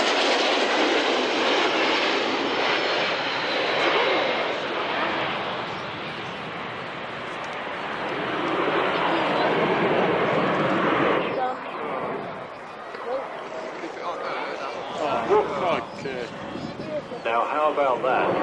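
Two large aircraft flying in formation at the Woodford Airshow, a broad loud roar that swells, dips, then swells again, with crowd chatter and talk mixed in toward the end.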